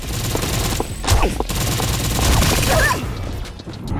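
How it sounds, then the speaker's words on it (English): Gunfire in a multiplayer mobile shooter video game: rapid automatic bursts and single shots crackle over a busy battle mix, loud and close. "Use the weapons you've unlocked to hit your enemies with well-aimed bullets"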